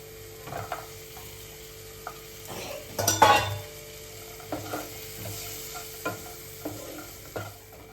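Peas being stirred and cooked in a pan, a low sizzle punctuated by periodic utensil taps and scrapes, with a louder clattering burst near the middle and no voices.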